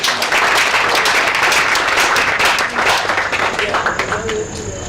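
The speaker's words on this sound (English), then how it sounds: "Can we clap for her once again?" Loud, steady clapping from a crowd at the Avatime Fume rice festival, applauding a woman who won the race, continuing for several seconds before thinning slightly at the end.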